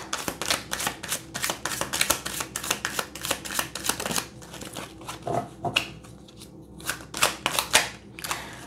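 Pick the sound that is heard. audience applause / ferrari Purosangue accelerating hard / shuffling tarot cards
shuffling tarot cards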